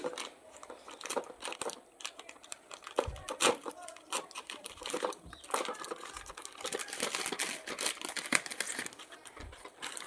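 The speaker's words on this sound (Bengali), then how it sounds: "গিফটের জিনিস খুলে দেখি আপনারাও দেখুন আমি খুলছি দেখুন" Gift package being unwrapped by hand, with steady crinkling and tearing of wrapping paper and packaging throughout, close and moderately loud, in bursts of rustling and crunching.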